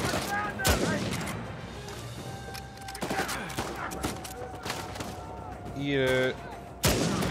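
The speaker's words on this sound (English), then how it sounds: "I got the sniper rifle. I'm ready to take aim." Gunfire from a sniper rifle and other weapons rings out in an Uncharted 4 multiplayer match: sharp, loud reports with two especially heavy blasts, set among game effects and a player's voice.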